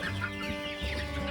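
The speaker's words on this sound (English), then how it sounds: "Now, I don't know if you can hear that chirping," Poultry chicks in a farm coop chirp and cheep in a busy, overlapping chorus at close range, with no talking.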